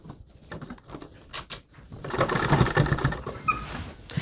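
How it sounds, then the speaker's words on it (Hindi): A sewing machine stitches a coat collar, its quick mechanical rattle building after a few scattered knocks and running steadily close by for a couple of seconds. "इसमें क्वार्टर इंच का दबाव लेके सिलाई लगाना शुरू कीजिए"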